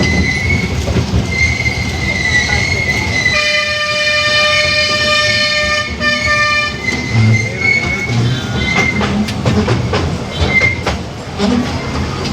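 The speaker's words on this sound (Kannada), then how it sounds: "ನಮ್ಮ ಟ್ರೈನ್ ಸ್ಟಾರ್ಟ್ ಆಯಿತು." A toy train runs at the Mysuru railway museum, its wheels rumbling loudly with clickety-clack and a sustained high metallic squeal, and a short toot near the end.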